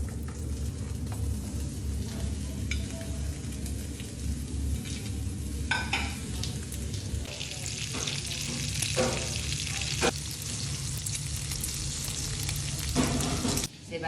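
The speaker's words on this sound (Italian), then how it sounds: "cotiche nella padella bollente con il grasso rivolto sotto, perché quello si deve squagliare tutto il grasso. Ecco qua, insieme alle cotiche ci mettiamo anche il guanciale." Pork rind and guanciale fry in a hot pan, the fat rendering with a steady, close crackling sizzle broken by sharper pops and stirring scrapes, and no talk.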